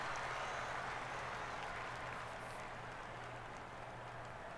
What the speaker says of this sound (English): 3 foot caddy applauds.